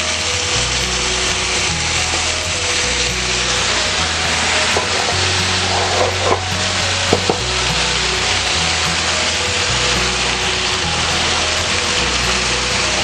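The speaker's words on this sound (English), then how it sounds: "So I'm gonna go ahead and add a can of diced tomatoes with their juice still." Diced canned tomatoes with their juice hit a hot skillet, giving a steady, loud sizzle and bubbling frying hiss throughout with occasional stirring scrapes; no voices.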